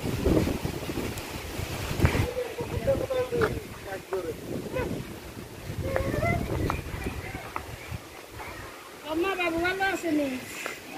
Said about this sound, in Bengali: দেখো কত বাতাস হইতেছে